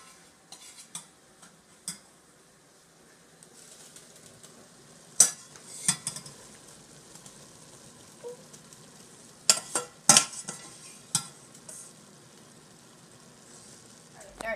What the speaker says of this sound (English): Now you're going to add the greens and let it simmer and stir it